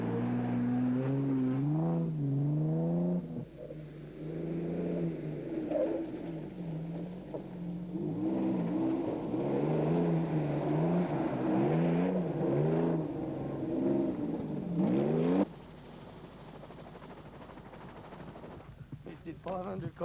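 Rally cars race along rough bush roads of the 1995 Safari Rally, engines revving and rising in pitch as they pass, with a narrator talking over much of the engine noise.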